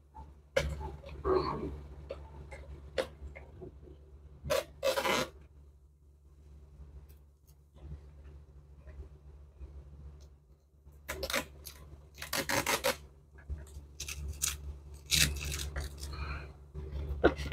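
A utility knife slices open a cardboard box in several short, sharp scraping and tearing bursts close to the microphone, separated by quiet pauses, over a low steady hum.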